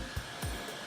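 A Jisulife Pro1 portable neck fan blows air with a steady, close hiss, broken by two brief low thumps.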